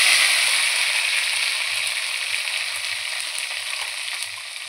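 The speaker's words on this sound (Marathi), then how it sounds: "आता आपल्याला हा मसाला सगळ्यात आधी ह्याच्यामध्ये टाकून परतून घ्यायचा थोडा" Masala of roasted onion, tomato, ginger, garlic, coriander and coconut fries in hot oil in a kadai, giving a steady bright sizzle that slowly softens, with a faint low pulsing hum underneath; no speech.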